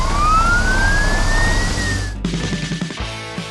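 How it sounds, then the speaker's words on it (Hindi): A wailing emergency siren rises and holds steady, loud and close, then fades into rumbling traffic with a few knocks and engine noise. "समय बहुत कम है और सायरन की आवाज हवा में गूंज रही है।"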